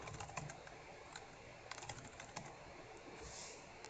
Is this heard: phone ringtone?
no